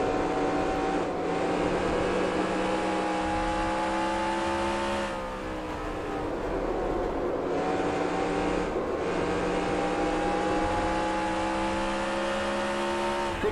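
A NASCAR Racing 2003 stock car engine roars continuously around Bristol's short oval in the video game, loud and close, with revs dipping briefly mid-lap before climbing again.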